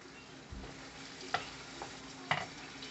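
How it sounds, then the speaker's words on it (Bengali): Shrimp frying in a pan is stirred, a soft steady sizzle broken by a few scraping, clattering stirs, quiet and close with no talking. "এখন আবার একটু নেড়ে দিব আমার চিংড়ি মাছটা"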